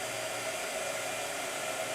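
A blow dryer runs steadily and close by, a constant whooshing roar with a faint motor whine and no breaks or talking.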